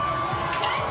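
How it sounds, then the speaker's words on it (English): Home crowd cheering on the Sky Blues under-19 rugby league side at a State of Origin match, a steady wash of massed voices and shouts filling the stadium for the whole moment. "listen to the crowd getting behind them as well"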